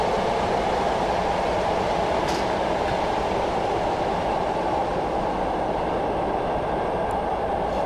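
Steady rumbling of a moving train in Microsoft Train Simulator on the Portsmouth Direct Line, with continuous wheel and track noise, loud and unbroken, with no voices.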